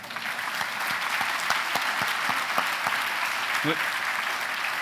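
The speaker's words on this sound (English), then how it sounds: "Let's give Ambassador and Mrs. Taubman another round of applause." Crowd applause at the groundbreaking ceremony for the Carilion Taubman Cancer Center, honoring an ambassador and his wife: sustained, even clapping from a gathered audience, with a few sharper individual claps standing out.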